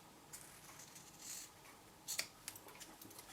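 Scissors trimming patterned paper for a small chocolate box, a few faint, quiet snips and paper rustles close by in a hushed room.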